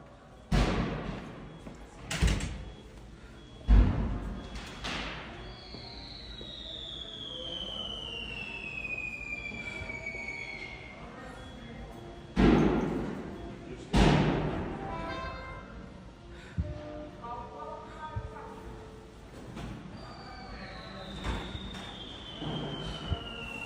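Sharp cracking bangs near Trump Tower in Las Vegas, like fireworks igniting, come in scattered clusters against city noise, with rising whistles and a faint distant voice between them.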